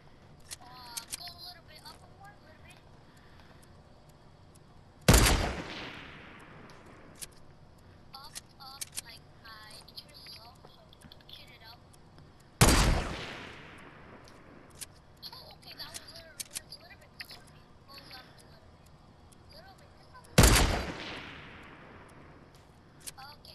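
Three loud, sharp sniper gunshots in Fortnite, spaced several seconds apart, each with a long decaying echo, with quieter game clicks and faint chatter between them.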